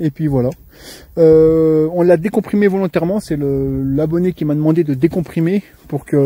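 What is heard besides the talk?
None of the usual background noises is heard.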